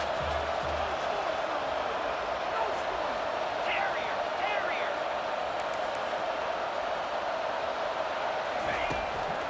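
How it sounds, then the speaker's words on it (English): Football stadium crowd at a national championship game on a third down, a steady broadband roar that holds at a constant level throughout, with faint whistle-like calls rising above it in places. "Third down and the crowd really getting into it."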